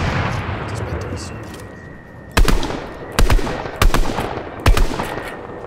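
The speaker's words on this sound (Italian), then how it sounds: "spari dietro di noi, ragazzi, spari dietro di noi" Gunfire in the Fortnite video game: four sharp, loud shots spaced about a second apart, cracking over a steady background rumble of game ambience.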